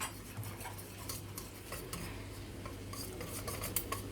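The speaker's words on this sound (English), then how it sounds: "I'm not done mixing" A spoon scraping and clinking steadily against a bowl while a mixture is stirred, soft irregular taps and rubs repeating throughout at close range, fairly quiet.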